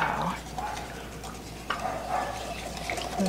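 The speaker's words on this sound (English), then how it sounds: "I'm gonna grab a whisk here and whisk that around a little bit" A whisk stirs sauce in a bowl for coating grilled potatoes, giving a steady wet swishing and clinking against the sides, loud and close, with no talking.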